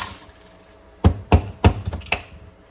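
A hammer strikes the housing of a Snap-on electric ratchet during a repair, giving three sharp, close metallic knocks about a third of a second apart, followed by a few lighter taps, with no talking.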